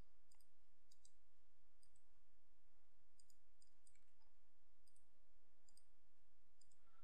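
Faint, sparse mouse clicks on dialog buttons, several scattered single clicks over a quiet steady background hiss, with no voices.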